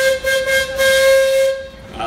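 A steam traction engine whistle, on a Twister engine at a threshermen's reunion parade, gives a loud, shrill blast with breathy hiss, wavering briefly before cutting off after about a second and a half.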